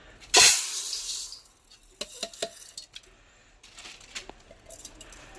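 Water splashes over uncooked rice in a pot for chicken biryani, a sharp loud gush at the start followed by scattered clinks and sloshing.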